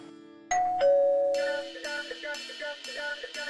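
A doorbell gives a two-tone ding-dong chime, then a series of quick, bright chime notes ring out in a steady rhythm inside a home.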